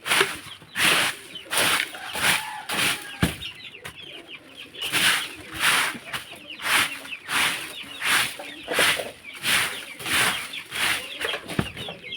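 Chickens in a village chicken house, repeated bursts of clucking and wing flapping come in a loose rhythm close by, with scratchy rustling between them and no talk.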